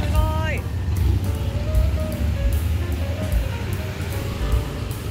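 Cars and motorbikes stream along a busy street in Ubud, Bali, making a steady close engine rumble with a few horn toots near the start. Someone talks over the traffic.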